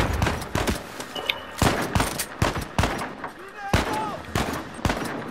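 Gunfire in the Uncharted 4 video game on Crushing difficulty, sharp loud shots in irregular bursts over several seconds, some close together, with faint voices between them.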